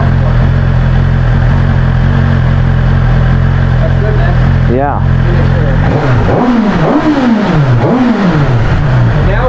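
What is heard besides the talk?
BMW S1000RR motorcycle engine revving with exhaust valve open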